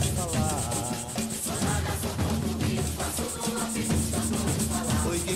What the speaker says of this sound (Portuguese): Lixe toda a parte externa da cabaça. Você pode usar uma lixa 120 ou 150.